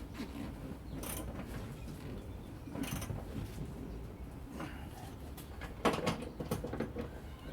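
A ratchet clicks in short bursts while seat bolts are tightened on a Toyota Land Cruiser, faint and close, with creaks and mechanical rattles between the pulls.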